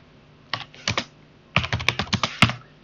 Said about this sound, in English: So if I type Ollama list